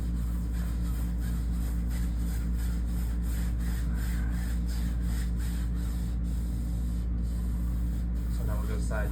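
A paintbrush sweeping white paint side to side across a canvas, making repeated soft, rhythmic scrubbing strokes close by over a steady background hum.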